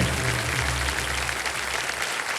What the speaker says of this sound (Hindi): तालियां बजती रहें सबके लिए।